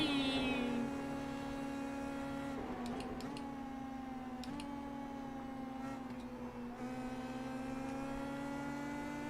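An Indy Pro 2000 open-wheel race car in iRacing at Phillip Island holds a steady high-pitched engine drone, dipping briefly as the driver lifts and shifts, then climbing again, heard alone without talk.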